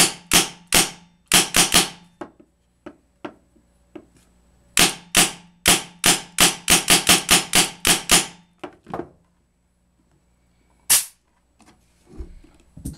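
A Tippmann 98 paintball marker fires in fast bursts of sharp, loud pops, close up, with short pauses between strings of shots and a last isolated shot, with no voices.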